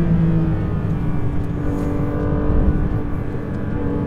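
Porsche GT3 RS engine on a race track, a steady loud, close drone holding a sustained engine tone without a distinct rev climb, continuous throughout with no talk.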